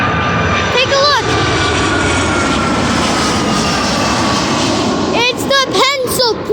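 A United Boeing 757 jet airliner at O'Hare gives a steady, loud engine roar throughout, with people talking briefly over it near the start and again near the end.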